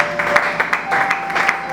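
A church audience claps briefly in a loose, uneven patter of separate hand claps, fairly close, with a faint steady tone humming underneath.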